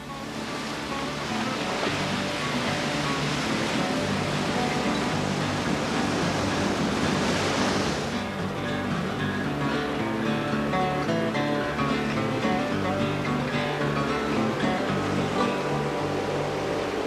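Ocean waves surge and crash continuously against the lava shore at Halona Blowhole in Hawaii, a loud, sustained roar of surf with music playing underneath.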